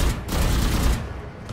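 Rapid gunfire from the tactical shooter Valorant, a dense burst of loud, closely spaced shots filling the whole moment with no talk over it.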